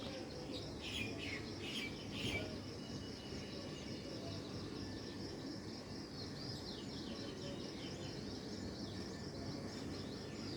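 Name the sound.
birds calling in the early morning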